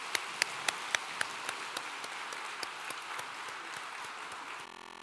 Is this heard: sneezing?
no